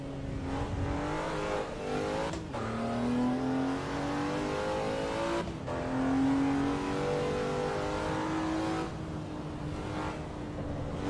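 A race car engine in Assetto Corsa EVO revs steadily through the gears, its pitch climbing and dropping with several sharp shift breaks, loud and continuous throughout.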